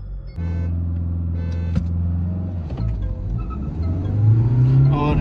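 Hyundai Creta and Mahindra Scorpio N with AC switched off launch side by side in a drag race, a steady engine drone building into a louder revving surge, with a voice talking faintly over it.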